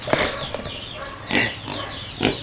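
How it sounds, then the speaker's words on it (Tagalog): A pair of farm pigs grunt and oink up close in a series of short, nasal bursts spaced irregularly, with quieter snuffling between calls and no voices. "Ito yung mga baboy namin"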